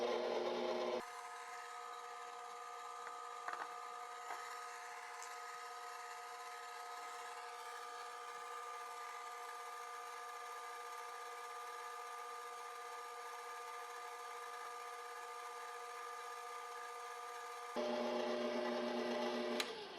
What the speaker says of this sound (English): But I'm going to use my stand mixer.